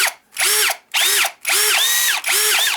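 An Einhell TP-CD 18/80 Li BL cordless drill runs in four short bursts. Each one whines up to speed and winds back down, loud and close, with brief gaps between them and no talking.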